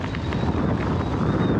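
Steady rumbling wind buffets a microphone while an e-bike rolls along a coastal cross-country route near Costa Teguise, Lanzarote, making an unbroken close roar with no speech.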